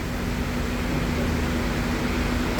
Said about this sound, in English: This is the vacuum pump,